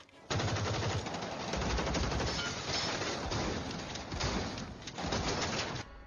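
Sustained, dense burst of rapid gunfire, loud and continuous for several seconds, with a brief drop near the end before resuming.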